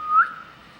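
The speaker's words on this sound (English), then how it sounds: "Give a little whistle," A person whistles to call a pug: one short, clear, rising whistle, close and alone, fading quickly.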